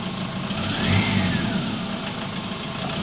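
A diesel Mahindra Xylo engine revs up briefly and settles back into a steady, rumbling idle, loud and close.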